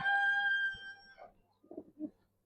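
Silver Giribaz pigeons cooing up close: a sustained tonal call opens, followed by a few short, low, throaty coos in quick succession.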